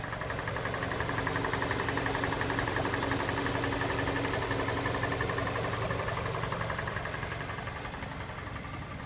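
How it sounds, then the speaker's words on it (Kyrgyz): A 2018 Kia Optima with a 2-litre engine idles steadily, a close, even mechanical hum with light vibration that holds unchanged from start to finish. "Моторун оталып турганын угуп турасыздар"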